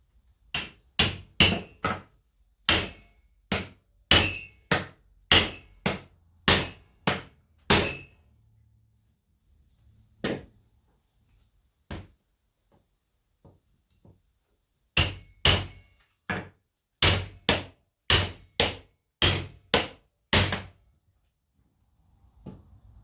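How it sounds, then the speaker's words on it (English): A large hammer drives railroad spikes into the tops of barn beams in two rapid runs of loud, ringing blows, separated by a few quieter taps and a brief pause. "we're going to drive our railroad spikes into the tops for the stems."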